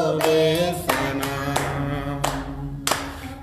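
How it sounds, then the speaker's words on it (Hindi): Congregation clapping hands together in rhythm at a church service, several sharp claps at a steady beat over sustained singing or music in the background. "सारे मिलकर ताली बजाओ"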